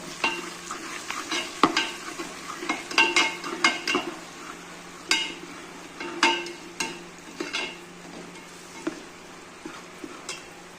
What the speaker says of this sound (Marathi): आता हे सगळे मसाल्यांना चांगलं परतून घेऊ।